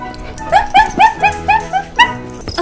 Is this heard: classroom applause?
no